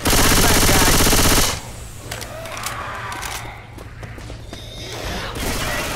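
Sustained machine gun fire in Left 4 Dead 2 opens loud and rapid for over a second, then drops to scattered shots and rumbling game noise before another burst builds at the end.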